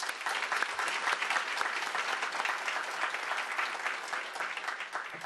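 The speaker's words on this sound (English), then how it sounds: "Another round of applause, please." Steady audience applause after a talk at an award ceremony, dense and even throughout, fairly close with no voices on top.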